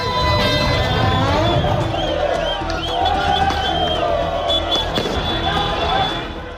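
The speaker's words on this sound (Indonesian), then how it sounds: "Sejumlah supporter menyalakan suar dan petasan di tengah jalan." Football supporters set off firecrackers and flares in the street: a dense, loud wash of crackling and bangs mixed with crowd cheering, whistles and chatter throughout.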